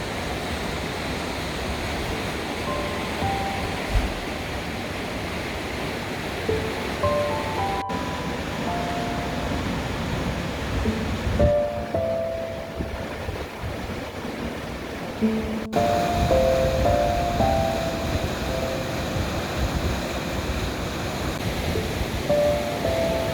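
The River Dee flows below a cantilever viewpoint in the Cairngorms, a steady broadband rush of moving water heard continuously and fairly close, with faint occasional tones over it.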